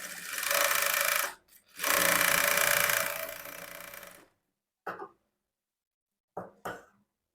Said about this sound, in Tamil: ஒரு ஃபுட் அளவுக்கு கேப் விட்டு தையல் போட்டுக்கலாம்